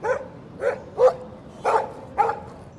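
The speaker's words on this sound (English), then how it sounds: "it's that guy and his dog from the cutscene. Stop! No barking." A video game dog barks five times in short, sharp yips spaced about half a second apart, fairly close and alone.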